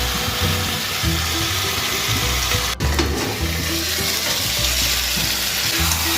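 Mutton frying in oil with torn bay leaves: a loud, dense, continuous sizzle close up, with occasional stirring scrapes and one brief dip midway.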